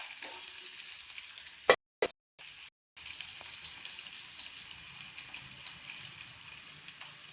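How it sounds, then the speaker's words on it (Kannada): Potato, cucumber and leafy greens sizzle steadily in hot tempering oil for a vegetable curry, with the frying broken by a few brief silent gaps before it continues. "ಇದೆಲ್ಲ ಸ್ವಲ್ಪ ಫ್ರೈ ಆಗಲಿ."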